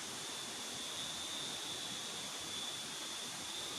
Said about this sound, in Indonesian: Sekarang kita berada di sungai.